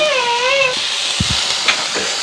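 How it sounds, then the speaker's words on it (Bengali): Grated carrot sizzles in a little oil in a pan, a steady close hiss with a couple of soft knocks from stirring, heard alone without talk. "ওইগুলো একটু হালকা তেলে বেজে নিচ্ছি"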